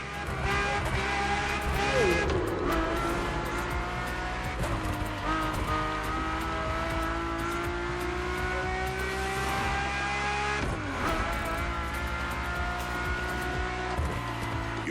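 Ferrari supercar engine, an F40 or F50, in the racing video game The Crew Motorfest, a steady loud drone with rising and falling pitch as it revs and shifts, continuous throughout.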